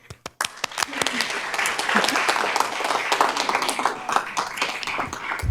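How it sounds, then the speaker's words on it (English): A school board meeting audience breaks into a round of applause for the school team, a few sharp claps at first swelling into steady, dense clapping that fills the room. "Round of applause."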